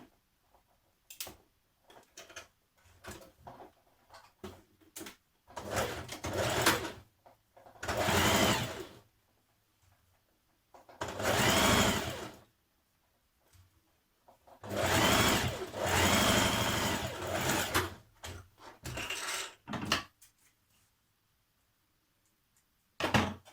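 A sewing machine stitches a trouser underflap to the left front in a string of short and longer runs, close and loud, separated by pauses filled with light clicks and fabric handling.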